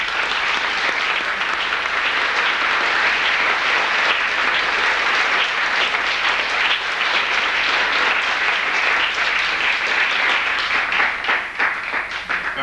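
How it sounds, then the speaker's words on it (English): A long, sustained round of applause from the audience for the sponsors at the 1997 Northern Ireland Disability Pool Festival, loud, dense clapping holding steady throughout before easing slightly near the end, with no talking over it. "I want you to give them a very good applause"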